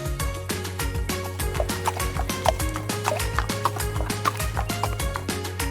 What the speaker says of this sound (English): Do you hear that sound, my little friends?